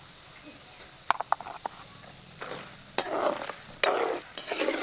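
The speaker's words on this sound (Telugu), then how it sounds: "ఇప్పుడు మనం ఒక రెండు చెంచాలు ఆవాలు వేసుకుందాం" Mustard seeds dropped into a pan of frying peanuts and chana dal for tamarind pulihora, light clicking and patter at first, then a loud spreading sizzle and crackle from the hot oil, close up.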